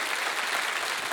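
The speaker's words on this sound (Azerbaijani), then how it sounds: "yaxşı bir alqışı məhz bu səhnə üçün" Audience applause for a Candyman stage number with dancers and lights on a TV show, a steady wash of clapping filling the whole moment without a break.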